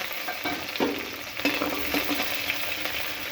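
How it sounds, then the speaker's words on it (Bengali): Onion, garlic, green chilies and five-spice seeds sizzle and fry in hot oil, with a spoon scraping and stirring the pan now and then. "কাঁচা লঙ্কা পেঁয়াজ রসুন পাঁচফোড়ন ভেজে নেব"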